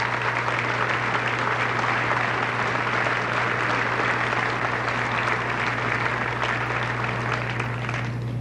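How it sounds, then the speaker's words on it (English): Audience at a junior high graduation applauding a spelling meet winner, Carly Souza, with sustained, dense clapping from a large crowd, steady for several seconds over a low hum. "I think Carly deserves a big round of applause."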